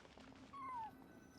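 A brief meow from a cat in the Genshin Impact video game, set in the Sumeru ruins. One clear, slightly falling cry sits over a quiet ambient background.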